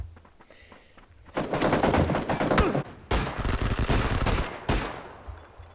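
Automatic gunfire in the video game PUBG, long rapid bursts of close, loud shots in three sustained strings with brief pauses between them.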